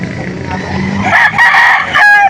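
A rooster crows loudly and close at the Lipa livestock auction market, with a clucking fowl before it and a second crow near the end.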